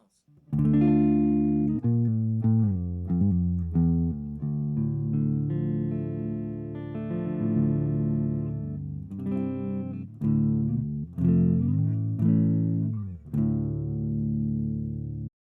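Metal electric guitar through an ISP Stealth Ultra-Lite pedalboard power amp into a Celestion G12 T speaker, miked with a dynamic microphone, plays distorted chords and riffs with sustained notes and sharp stops, loud and alone.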